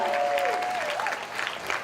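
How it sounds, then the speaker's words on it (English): Children clapping at a lower school assembly, a short burst of many small hands, with a brief tonal whistle or voice-like sound over the start before the clapping tapers. "Let's give Dr. Bosick a round of applause."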